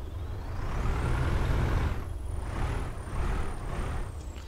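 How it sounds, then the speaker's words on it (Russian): A PAZ-4234 bus in the OMSI 2 simulator hisses with a loud air brake release over a steady low engine rumble, followed by fluctuating engine drone. "вот так звучит автобус"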